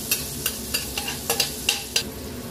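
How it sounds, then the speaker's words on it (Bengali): Chopped garlic and green chillies lightly frying in a pan for a garlic cauliflower roast, with a steady sizzle and about eight regular scraping stirs close by, no talk. "এটা দিয়ে একটু হালকা ফ্রাই করে নেব।"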